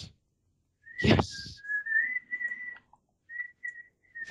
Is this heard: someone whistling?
yes